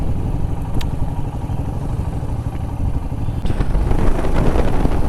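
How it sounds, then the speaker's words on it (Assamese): A motorcycle is ridden along a winding road near Pobitora wildlife sanctuary, its engine a loud, close, continuous rumble with rattling wind noise that grows slightly stronger toward the end. "এইটো ৰাস্তাত বাইক চলালে ভালে লাগে"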